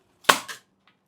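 A toy double-barrel gun fires a sharp, loud crack, followed at once by a second, softer pop, then silence. Nothing else is heard.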